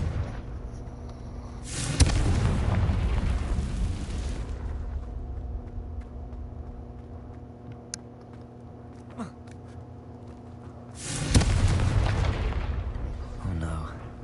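Confringo explosive spell blasts in the video game Hogwarts Legacy: two loud booming bursts with rumbling tails several seconds apart, separated by a quieter stretch of low hum and small clicks.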